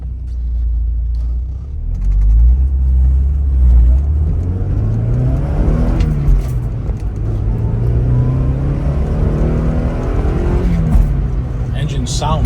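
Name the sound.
Porsche 944 engine accelerating, shifting 5-speed manual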